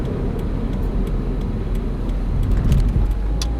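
A 2015 Subaru WRX engine hums steadily at close range while the clutch is pressed in second gear, with a slight rise in revs toward the end.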